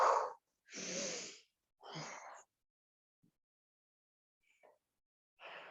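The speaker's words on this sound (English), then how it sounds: "Deep breathing" Deep breathing during a mat exercise session: a few loud, close breaths in and out come in slow succession, each lasting about a second, separated by near silence and a few faint soft noises.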